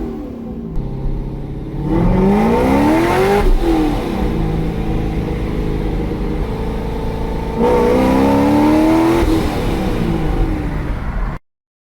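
A supercharged C6 Corvette with a tune and full mods accelerates hard. The loud engine note climbs steadily through the gears, with a short dip at each shift, and then cuts off abruptly at the end.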